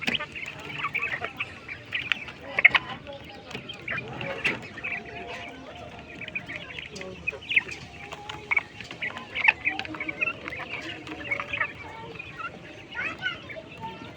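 European giant coturnix quails call from inside a farm cage, a steady chorus of short, chirping clucks repeating throughout over a busy background of other birds.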